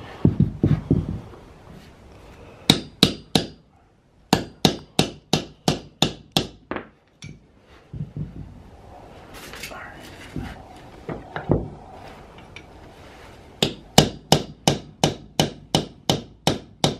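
Hammer driving a chisel against a Ford 8.8 Explorer IRS differential bushing: loud, sharp metallic strikes in fast rhythmic bursts of several blows, with pauses between volleys and some talk in the gaps.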